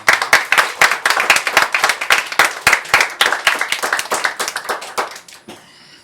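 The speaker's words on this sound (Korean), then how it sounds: "우리 박수 한번 해주십시다." A church congregation claps together in a quick, steady run of sharp hand claps, loud and close, gradually thinning and fading out near the end.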